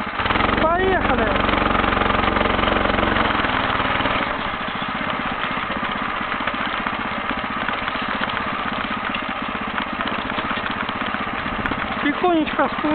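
A homemade motorcycle engine drones steadily as it rides through a forest. It is loudest at the start and then settles into a constant mid-pitched hum, with a person talking over it.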